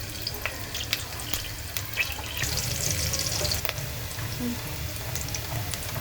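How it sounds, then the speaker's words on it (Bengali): Onion fries in a little oil in a pan, a faint, close sizzle with light stirring scrapes and small clinks, steady and quiet throughout. "মোটামুটি ভাজা হয়ে গেছে পেঁয়াজটা"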